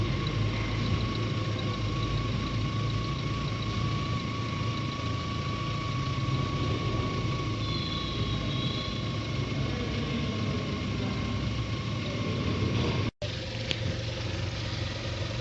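A car engine idles steadily while warming up to operating temperature, a continuous close hum with a low rumble, interrupted by one sharp brief click near the end.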